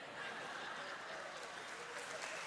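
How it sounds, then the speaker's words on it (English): Audience at a charity banquet claps briefly, soft distant applause spread through a large room. "You're gonna clap for that?"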